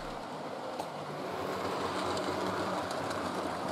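Model trains run along the Little Bitham railway layout, a steady close rolling rumble with faint clicking of wheels over track joints that grows slightly louder over a few seconds.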